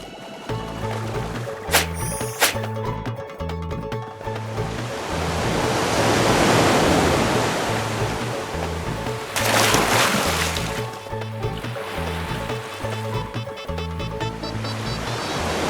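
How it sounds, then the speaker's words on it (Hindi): A big cartoon sea wave swells into a long loud roaring rush of surf that peaks and then fades, set over rhythmic background music with a couple of sharp effect hits. "जगन मामा, बड़ी सी लहर बनाइए।"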